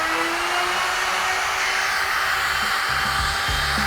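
Vacuum dust extraction roars steadily while a kitchen worktop is cut for a sink, a loud, continuous airy whine close by with low thumps near the end.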